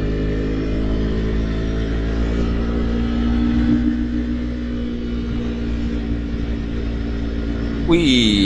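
A motorcycle engine drones steadily along a mountain jungle road in Sumatra's Beutong Ateuh tiger habitat, a low sustained hum with a brief rise near the end as another rider passes close by.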